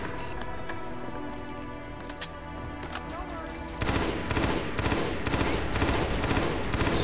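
A shotgun firing: after a quieter lead-in with scattered clicks, a loud run of rapid, closely spaced blasts starts partway through and goes on to the end.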